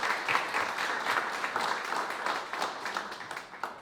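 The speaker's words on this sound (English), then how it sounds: "let's give him a big round of applause for Dr. Amado" An audience at a book presentation on the fall of the last colonial empire in Africa applauds Dr. Amado, a sustained, fairly quiet wash of many hands clapping that tapers off toward the end.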